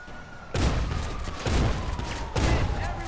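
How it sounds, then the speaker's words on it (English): Explosive shotgun blasts from GTA 5, three loud booming shots spaced about a second apart, each with a sharp attack and a rumbling tail, over steady game background noise. "let's get the explosive shotgun out"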